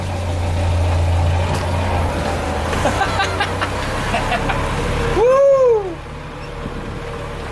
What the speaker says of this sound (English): Bro, we're driving 1965 Scout